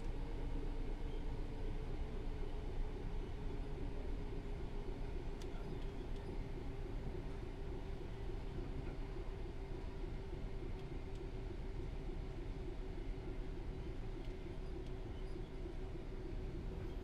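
A Southeastern high-speed train in Train Sim World 3 rolls into a station with a steady, continuous low rumble of wheels and motors that holds an even level throughout.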